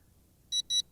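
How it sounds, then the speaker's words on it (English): An Eachine EX1 brushless GPS camera drone's radio transmitter, not yet bound to the quadcopter, gives two quick, close, high-pitched electronic beeps in rapid succession, alone against a quiet background. "The beeping will stop on this transmitter once it's bound."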